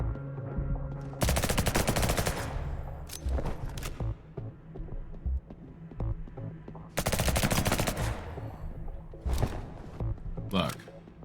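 Bursts of automatic gunfire from the video game Liberated, two long loud volleys with scattered shorter shots between them, mixed with game sounds and a person talking.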